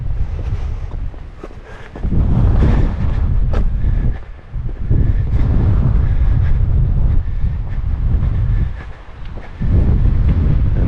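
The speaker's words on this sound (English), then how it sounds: "Gotta watch that gusty wind" Strong, gusty wind buffets the microphone on a narrow overlook in the South Unit of Theodore Roosevelt National Park, North Dakota, roaring in loud surges with brief lulls between gusts, with no voice heard.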